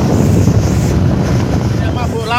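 Strong east wind of around 25 knots and heavy waves batter a traditional fishing boat off Kendal on the way home, a loud continuous roar of wind buffeting with water washing against the hull, close up.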